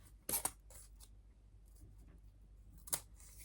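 Scissors snip through a craft item, two quick close cuts near the start and another crisp snip near the end, quiet surroundings between.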